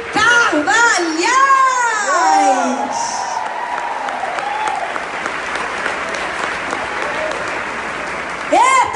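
A church congregation applauds a woman being welcomed to the stage, loud and sustained clapping mixed with whoops, cheers and children's voices, with excited shouting over the top at the start and again at the end.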